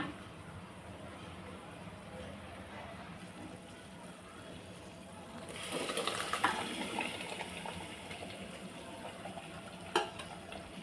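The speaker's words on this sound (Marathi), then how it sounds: "आता आपण या फोडणीमध्ये ही डाळ घालून घेऊया" Cooked dal with mashed tomato is poured into a hot oil tempering. A burst of sizzling and splashing rises partway through, then continues with stirring and a sharp clink, all at moderate distance.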